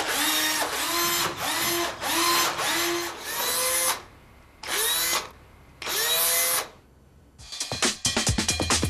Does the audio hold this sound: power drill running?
yes